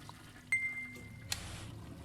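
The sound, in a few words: toilet flushing in a video game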